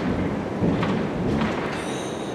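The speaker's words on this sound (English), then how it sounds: "I think that lightning just hit this roof." A loud rumble of thunder during a thunderstorm, after lightning appears to strike the roof of a campervan or RV, rolling continuously over steady rain close by.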